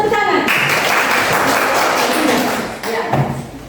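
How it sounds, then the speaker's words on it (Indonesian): Lively applause from a small group in a classroom or coaching session, with a few thumps mixed into the clapping, which fades after a few seconds before a short voice and more taps at the end. "luar biasa. Tepuk tangan."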